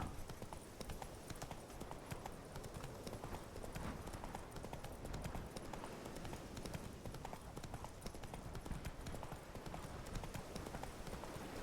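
Roach the horse trots along in The Witcher 3, with steady, continuous clip-clopping hooves that sound close and dense over a busy game soundscape, with no talk.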